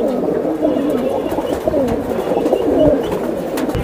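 Army pigeons coo steadily in a loft, with overlapping low throaty calls from several birds, close and fairly loud against a busy background murmur.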